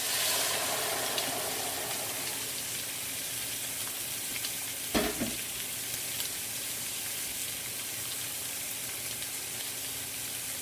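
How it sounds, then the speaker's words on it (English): Two cups of beef stock go into a pot of braising beef cheek, a brief splashing pour in the middle of a steady sizzling hiss that fills the rest, with no talking. "And in goes my stock here too."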